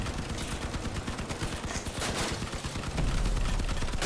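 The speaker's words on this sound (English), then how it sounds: "Machine gun's on." Dense, continuous machine gun fire in the vehicle combat game Crossout, a steady rattling stream that holds at the same loud level and swells slightly near the end.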